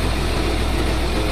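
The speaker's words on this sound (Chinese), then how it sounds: "启动发动机。" The engine of a Zoomlion stationary pump runs with a steady, loud, low-pitched drone, close by and unbroken, with no voices.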